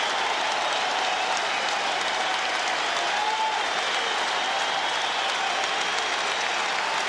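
A large baseball crowd at Fenway Park roars continuously at a Yankees–Red Sox game, a dense, loud wash of cheering as fans rise to their feet.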